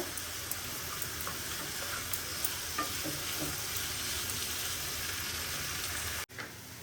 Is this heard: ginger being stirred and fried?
yes